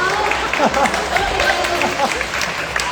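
A crowd applauds with dense, continuous clapping, loud and close, while voices murmur through it, as a director is called on stage at a youth drama club performance.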